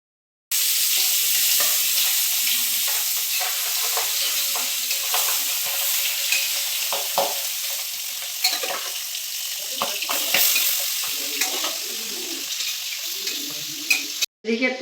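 Whole spices, dried red chillies and bay leaves sizzle steadily in hot oil for a Bengali mustard fish dish, a loud continuous frying hiss with occasional stirring clicks and pops, no talking.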